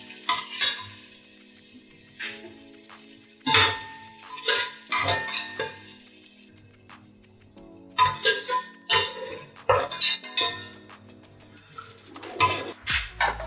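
Cooked bacon being lifted out of a pan for Irish stew, with clinks and scrapes of a utensil against the pan over a low background sizzle, close and intermittent.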